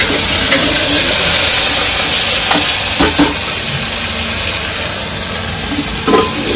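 Chopped onions frying in a pan for a New Year's Eve party meal, giving a loud, steady sizzle with a few sharp stirring clicks and scrapes along the way.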